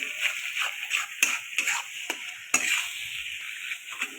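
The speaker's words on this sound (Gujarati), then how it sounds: "મિક્સ કરીએ છીએ આપણે" A spoon stirs and scrapes dudhi (bottle gourd) halwa in a hot, sizzling pan, producing a continuous frying hiss broken by repeated sharp scraping strokes at an uneven rhythm.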